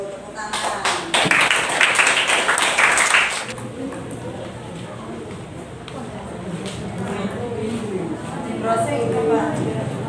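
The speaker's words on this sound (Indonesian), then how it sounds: "tepuk tangan" Audience at a teachers' coaching session claps in a burst of mixed, uneven hand taps that fades after a few seconds, followed by murmuring voices and talk in the room.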